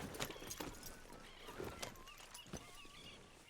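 Soft horse hooves clip-clopping at a walking pace in the video game Red Dead Redemption 2, faint and somewhat distant, with a few brief birdlike whistles in the background.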